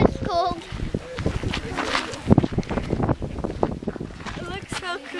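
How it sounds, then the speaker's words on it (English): Cold wind buffets the microphone on the summit of Mount Rokko in Japan, a steady rushing gust under close voices that chatter throughout. "The wind is cold."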